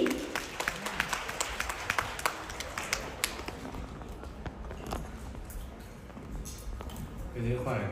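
Audience clapping fills a crosstalk show at a Deyun Society evening performance in Changchun, a steady patter of many hands with scattered sharper claps, mixed with voices throughout.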